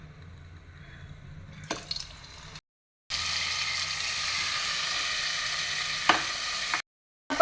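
Butter melting and sizzling in hot oil in a kadhai, a steady crackling hiss broken by two short silent gaps, the sizzle sounding louder and brighter after the first gap.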